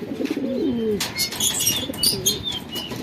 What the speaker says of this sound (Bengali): একটা খয়রা গলা কবুতর অনেক সুন্দর